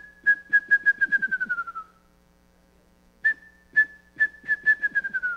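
A person whistles an imitation of a wrentit's song: two runs of rapid, clear notes that accelerate and drop slightly in pitch like a bouncing ball, separated by a pause, close and alone.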